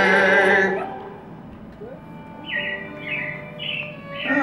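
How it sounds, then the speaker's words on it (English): Robins chirp during the Disney Carousel of Progress animatronic show: a short run of bright, repeated tweets, close and clear, after a fading swell of music. "it looks like the Robins are getting ready to celebrate Valentine's Day today"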